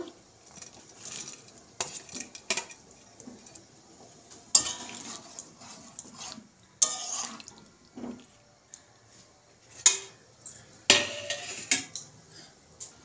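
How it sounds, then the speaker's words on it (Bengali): Fried paneer cubes tipped into a cooking pan of chana paneer masala, giving scattered clinks of utensil on metal, soft stirring and a faint trickle of water, mostly quiet between sharp taps. "ভেজে রাখা পনিরগুলো আমি দিয়ে দেব।"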